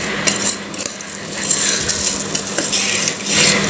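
Puffed rice tossed and mixed in a bowl for bhel, with busy close clinking and scraping of a metal bowl and utensil, continuous and fairly loud.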